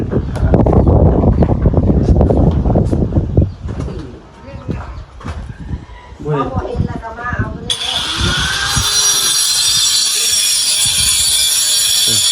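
Wind buffets a microphone outdoors in a rural Thai village, producing a loud, steady rumble and hiss. Birds coo alongside it and people talk over it early on. The noise becomes a brighter, constant roar in the last few seconds.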